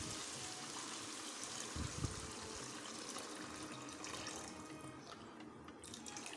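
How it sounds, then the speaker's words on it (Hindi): A liter of water pours steadily into a cooking pot holding raw mango and sugar for a sweet and sour chutney, a continuous splashing stream that runs the whole time. "इसमें मैं शामिल करने लगा हूँ 1 लीटर पानी।"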